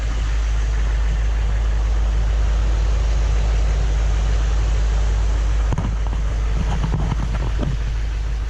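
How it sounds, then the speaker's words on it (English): A 2008 Chevy Silverado 3500HD Duramax pickup engine idles steadily with a loud low rumble and broad fan-like whoosh, close by, with a couple of brief clunks near the end. "Here's the truck running."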